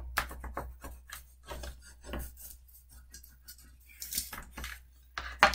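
Tape being burnished along a score line on a paper Christmas mini album, heard as a series of short dry rubbing and scraping strokes, fairly close and irregular, with quiet pauses between them.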